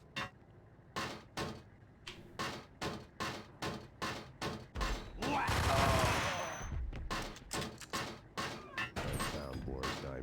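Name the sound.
Ingram machine pistols firing in Max Payne video game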